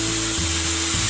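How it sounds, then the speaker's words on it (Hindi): Grated khoya being stirred in a hot kadhai for gujiya filling, giving a soft continuous sizzle with a faint scraping as the spoon moves, heard alone. "खोए को भी हम इसी कढ़ाई के अंदर जो है अच्छे से चलाएंगे"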